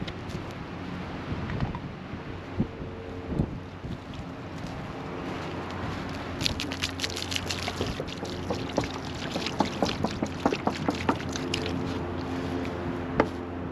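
Water pours from a bottle onto a marble flatstone outdoors, a soft, uneven trickle and splash that turns into sharper clustered drips and spatters, with light wind noise in the background.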